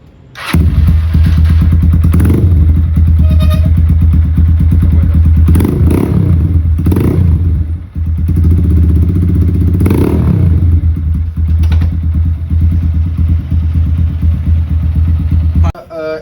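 A Lifan K90 mini Harley-style motorcycle runs loud and close, its engine holding a steady idle broken by several short revving bursts and a few clattering thumps.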